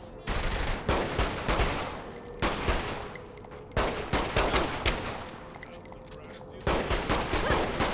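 Loud volleys of gunfire in Saints Row The Third Remastered, several sustained automatic bursts with brief pauses between them, close and dominant, with faint voices under the shooting.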